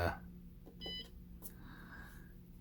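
A short electronic beep from an ultrasonic cutter, a brief high tone rising out of a quiet background hum, followed by a faint second chirp.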